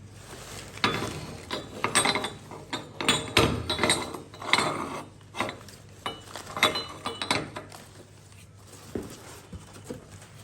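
A ceramic tea kettle handled up close, irregular knocks, taps and light clinks in short bursts with quiet pauses between, no one talking.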